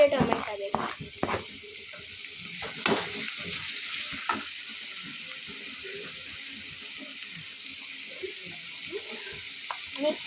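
Tomatoes fry in a pan for an egg pulimunchi, a steady sizzle with repeated scraping and stirring knocks from a utensil, loudest at the start and continuing close by throughout.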